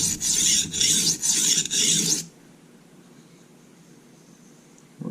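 A chef knife is drawn across a Norton Crystolon combination oil stone in four quick, close, rasping strokes, back to back, followed by near silence with a faint scrape at the very end.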